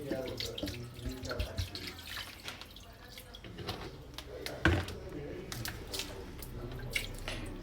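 Kitchen tap running water into a cooking pot over chicken pieces, a steady close splashing stream with dripping and a brief clunk of the pot midway, under quiet background voices.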